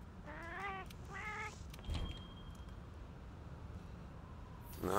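A cat in Monster Hunter World gives two short meows close together, followed by a quiet stretch with faint game sounds and a brief bump partway through.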